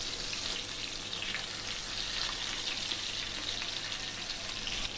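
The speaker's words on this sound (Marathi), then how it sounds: "अशा पद्धतीने दुसरी पण बाजू आपण व्यवस्थित शेकून घेणार आहे" Mackerel frying in a pan, a continuous close crackling sizzle at even loudness throughout, with no talking.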